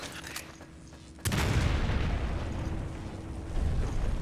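A grenade goes off in the Resident Evil 5 video game, a sudden loud blast that cuts in abruptly and leaves a dense, sustained roar of rumbling noise behind it.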